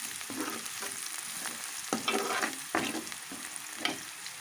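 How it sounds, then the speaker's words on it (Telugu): Mutton pieces sizzle in a pan of golden fried onions, with a steady frying crackle and several stirring scrapes coming at irregular intervals, close and moderately quiet. "ఇప్పుడు మటన్ వేసుకుందాం ఇందులో"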